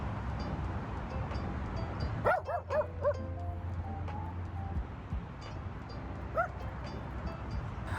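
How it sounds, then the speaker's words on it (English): A dog on a lure-walking session lets out a short burst of high yips and barks, then one more brief yip later, fairly close over quiet outdoor background noise. "she was actually barking at my neighbor's toddler"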